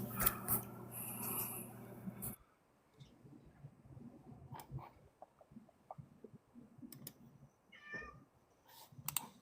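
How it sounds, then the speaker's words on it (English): A cat gives a drawn-out, loud meow near the start, followed by quieter rustling, clicks and a brief higher squeak later. "Somebody's got an unhappy cat."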